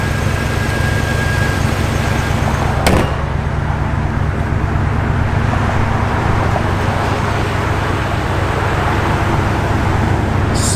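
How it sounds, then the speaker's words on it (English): A 1967 Chevrolet Corvette Roadster runs and drives, giving off a loud, steady engine and road rumble with one sharp click partway through and no voices. "the car runs and drives out great"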